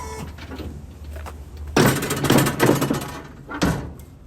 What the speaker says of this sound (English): That was actually the sound of one of our courier trucks, and I think it was actually the lift gate on the back.